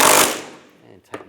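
A power tool bursts loudly for a moment while tightening the rear suspension bolts on a 1998-2010 Volkswagen Beetle during a trailing arm bushing job, then trails off, followed by a brief metallic knock.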